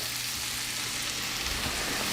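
Steady, dense sizzling of mushrooms frying in a pan, a constant crackling hiss with no pauses and no voices.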